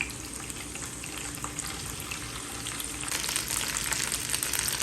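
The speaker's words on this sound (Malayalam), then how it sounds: "ഇനി ഇതിലേക്ക് നമ്മൾ നുറുക്കി വെച്ചേക്കുന്ന സോസേജ് അങ്ങ് ഇട്ട് കൊടുക്കാം" Chopped sausage frying in a pan of oil gives a steady, close sizzle with faint stirring clicks, the crackle growing louder and denser partway through, with no talking.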